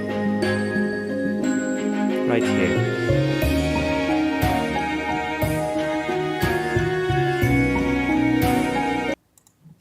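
Looped jazz ride cymbal pattern with soft brush snare strokes, a steady swinging groove of bright shimmering pings over light swishes, running continuously before cutting off abruptly near the end; a brief spoken phrase passes over it.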